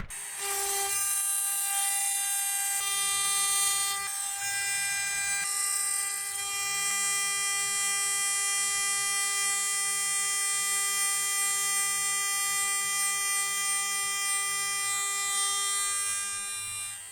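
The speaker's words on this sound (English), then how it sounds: "Now I'll round over the bottom of the pockets using a 1/2 inch bullnose bit." A router fitted with a 1/2 inch bullnose bit rounds over the bottoms of pockets cut in wood, a loud, steady high-pitched motor whine with shifting grinding cutting noise as the bit moves through the workpiece, close and continuous.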